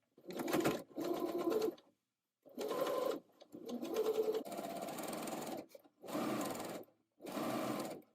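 A sewing machine stitches channels along a sleeve seam in six or seven short bursts of rapid whirring separated by brief pauses, close and fairly quiet.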